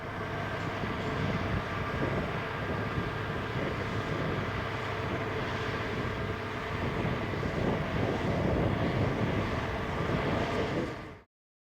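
A road grader's engine drones steadily and fairly loud while it grades a waterpond bank in the West Kimberley, a continuous rumble that cuts off abruptly at the end.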